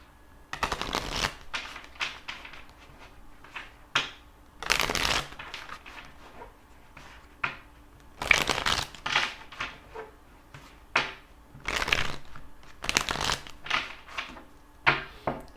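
A deck of cards being shuffled, with repeated riffling bursts and papery flutters spread across the whole span, fairly close and with no talking.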